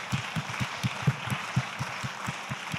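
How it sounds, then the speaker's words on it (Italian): At a conference, a small audience gives speaker Morgana Lalli a sparse round of applause, with distinct individual claps in a loose rhythm over a soft background wash, fairly quiet and somewhat distant. "un applauso a Morgana Lalli."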